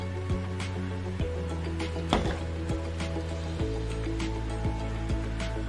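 Oil streams into a container as part of a Christmas lava lamp project, a soft continuous trickle and fill lasting several seconds over a steady background hum.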